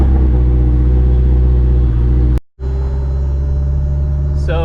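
A car drives with the windows down, its engine rumbling loud and close under strong wind buffeting, with a brief dropout mid-clip and a short rising whine at the end.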